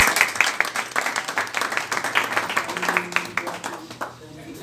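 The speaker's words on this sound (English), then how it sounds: "Big round of applause for everyone." Small crowd clapping at a fundraising gathering, a few seconds of moderately loud, uneven applause with distinct hand claps that thins out toward the end, with voices murmuring underneath.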